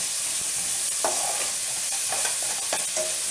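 Garlic sizzles steadily in a hot pan while a utensil stirs it, with several soft scraping strokes over the constant frying hiss, close up and without talk.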